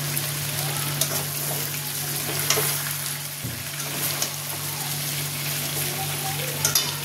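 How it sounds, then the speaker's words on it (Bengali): Chicken pieces fry in a pan with a continuous close sizzle and soft crackling, a low steady hum underneath and a few brief clatters. "মাংসের এই পিঠটা ভাজা ভাজা হয়ে গেছে সুন্দর"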